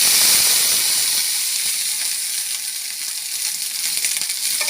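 Water splashed onto a hot, well-oiled griddle crackles into a bright, steady sizzle that hisses loudly at first and then settles into a continuous frying crackle.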